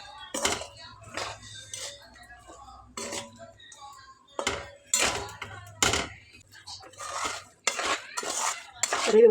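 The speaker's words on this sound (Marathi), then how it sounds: "आणि हे सगळे शेंगदाणे या गुळाच्या पाकात घालते व्यवस्थित मिक्स करून घेते" Peanuts being stirred into hot jaggery syrup for chikki: repeated scraping and clinking of a spoon against a pan in irregular bursts, close by, with a voice speaking in between.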